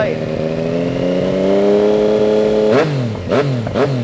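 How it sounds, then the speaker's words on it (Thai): A 2019 Yamaha MT-09 motorcycle engine idles with a steady, close hum, then is revved in three quick blips that rise sharply and fall fast. "มาฟังอัตราเร่งกันหน่อย นะครับขึ้นเร็ว ลงเร็ว รอบเครื่องยนต์นิ่งนะครับ"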